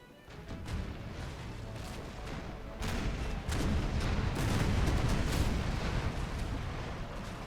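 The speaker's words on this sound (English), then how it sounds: "Keep laying cannon fire into his side." Cannon broadsides from sailing warships in Napoleon Total War build into a continuous thundering barrage, separate sharp shots cracking through before the volleys merge into a sustained loud rumble.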